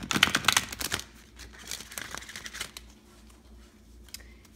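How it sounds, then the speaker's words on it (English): A deck of Sacred Earth oracle cards shuffled by hand, giving a burst of crisp riffling and flicking in the first second, then softer, scattered card slides and taps that fade toward quiet. "All right, let's do one more shuffle."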